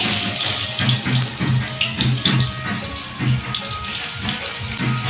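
Chopped tomatoes hit hot oil in a pan and sizzle loudly up close, a watery, bubbling crackle with rhythmic pulses as the pan is stirred or shaken.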